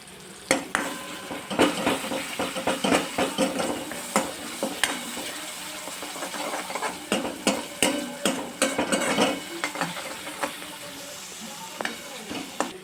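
A spoon scrapes and clatters against a pan in uneven bursts while thick masala paste for Kathiyawadi-style sev tameta shaak sizzles and hisses underneath, close and fairly loud.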